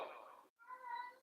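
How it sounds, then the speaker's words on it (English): Cat meowing, two short close meows, the second longer and more tonal, fairly faint and alone. "Oh, the cat, Maxwell, is calling out the call of war"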